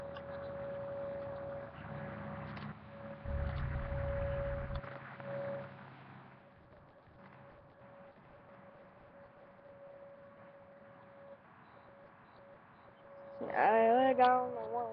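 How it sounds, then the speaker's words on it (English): An outdoor warning siren sounds during a monthly July test as a single steady, distant wail held for many seconds, faint behind some low rumbling, with a voice near the end. "siren is coming from that way"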